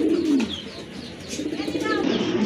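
Large pigeons, kept for sale, coo in a low rolling murmur close by, with faint chirps scattered over a continuous bed of bird noise.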